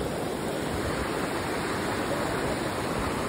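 A North Carolina waterfall roars steadily and loudly up close, a dense unbroken rush of falling water with no voices.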